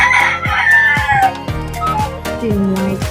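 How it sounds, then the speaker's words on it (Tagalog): Rooster crowing from white Kelso chickens on a small backyard poultry farm, several loud, drawn-out cock-a-doodle-doo calls overlapping close by, with other fowl calling faintly behind them. "Ito yung white puting manok namin."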